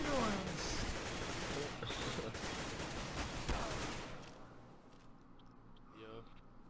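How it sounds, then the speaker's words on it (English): Gunfire in CS:GO rattles in dense repeated bursts, loud and close for several seconds before tapering off into quieter scattered sounds, with a voice speaking over parts of it. "Put so many bullets into him."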